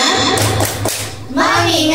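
A group of women at a teachers' workshop performs the rhythmic "tepuk fokus" clap routine: a few sharp claps close by, mixed with chanted voices.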